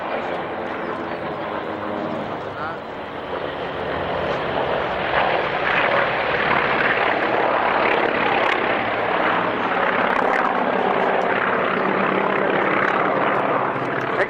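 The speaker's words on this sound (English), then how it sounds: "the FM2 Wildcat, the little stubby aeroplane leading currently this section of 4 aircraft" A section of four aircraft led by a stubby FM2 Wildcat fighter flies past at an airshow, a steady broadband engine roar that swells and holds loud throughout, with faint crowd noise beneath.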